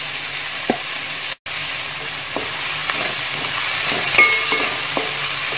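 Onions sautéing in a pan for Kerala-style beef kurma give a steady, close frying sizzle, with a few soft scrapes and clicks of a spoon as they are stirred, and one brief break where the sound drops out.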